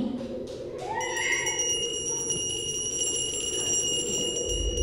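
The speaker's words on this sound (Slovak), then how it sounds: "Môj kúzelný zvonec zazvoní." A small handheld magic bell rings at a children's pumpkin event, a bright sustained chime that sets in after a short vocal sound and lingers over quiet room noise.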